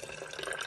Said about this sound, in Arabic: غنكب الماء هو الاول